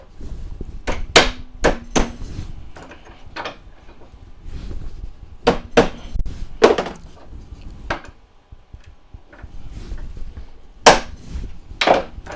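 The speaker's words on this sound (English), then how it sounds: "Just let the hammer do all the work." Sharp, loud hammer strikes on silverware held in a press, coming in irregular clusters with pauses between them, close by and with no talking.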